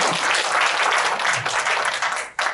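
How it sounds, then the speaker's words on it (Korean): An audience at a Gwangju launch ceremony for the 160th anniversary of Koryoin and Korean migration applauds a director, a loud, dense burst of clapping that fills the room and stops abruptly near the end. "박용수 국장님한테 다시 한번 큰 박수를 보내주시기 바랍니다."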